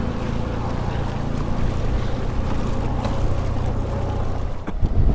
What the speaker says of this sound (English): Man, the water chop is just atrocious.